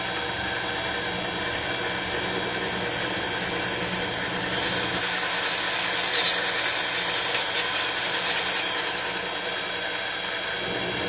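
A metal lathe cuts a flywheel hub pattern for brass casting, a sustained loud machine whine with high-pitched squealing from the cutting tool, steady throughout.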